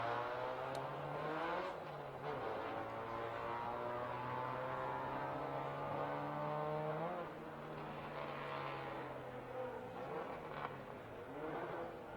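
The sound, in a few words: race cars lapping Circuit of the Americas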